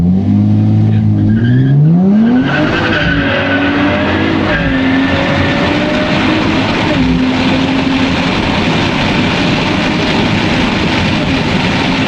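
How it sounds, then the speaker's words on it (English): A 2024 Nissan Z NISMO launches hard on a quarter-mile drag strip at Sonoma, the engine revving up through a rising climb and a gear change before roaring away into a sustained loud, rough engine and road noise. "So I also went drag racing for the first time today"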